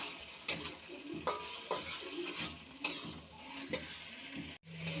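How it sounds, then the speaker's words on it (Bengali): A spoon scrapes and clinks against a pan while fried potato and pointed gourd are stirred into oily cooked spice masala, with a soft sizzle beneath, irregular close strokes and a few sharp metallic taps. "ভালো করে মিশিয়ে নেব।"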